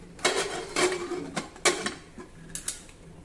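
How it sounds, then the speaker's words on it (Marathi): A pressure cooker lid being closed, several sharp metallic clacks and scrapes in a short irregular series, close and fairly loud, with no voices. "कुकरचं झाकण बंद करून घेऊ"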